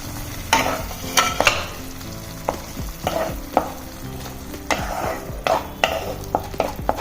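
Ginger, garlic and tomatoes sizzle in a pan for mushroom masala while a spoon stirs and scrapes, giving repeated sharp clinks over a steady frying hiss, close and fairly loud with no talk.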